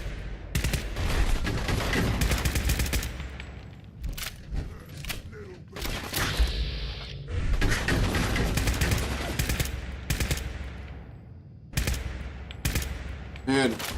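Rapid bursts of game gunfire from Fallout 4 in survival mode, dense automatic volleys broken by short pauses, loud and close throughout, with a voice talking in places between shots.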